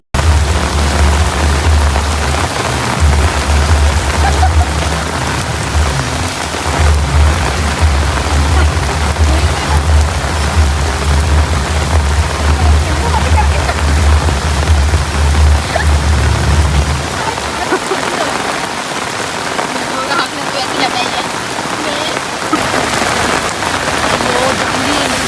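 Heavy rain pours steadily on a college campus, a loud, dense hiss throughout, with a low rumbling undertone that drops away partway through.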